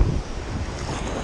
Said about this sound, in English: the winds, the waves are coming